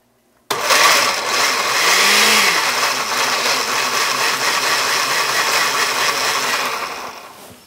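A kitchen blender starts abruptly and runs loud and steady, its motor whirring with a rough grinding texture and a brief pitch swoop early on, then cuts off near the end; no talking.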